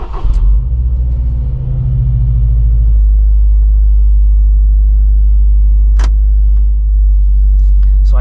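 Steady low engine rumble from a Subaru WRX STI S209 driving on the road, loud and continuous inside the cabin, with a brief clunk near the end and no talking.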